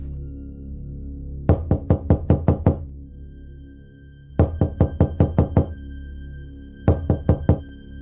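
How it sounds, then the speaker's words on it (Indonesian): Three bursts of rapid knuckle raps on a bedroom door, each a quick run of about six or seven sharp knocks, close and loud over a low steady hum. "tiba-tiba pintu kamar Chandra diketuk sebanyak 3 kali"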